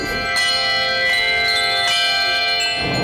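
Church bells rung by a team of bell ringers peal loudly and continuously, their overlapping ringing tones sustained throughout with no voices.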